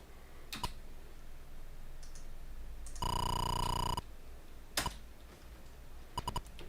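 Keys on an Atari 8-bit home computer keyboard clicking in short, sparse clusters, each keystroke sharp and close, with a sustained electronic tone sounding for about a second partway through.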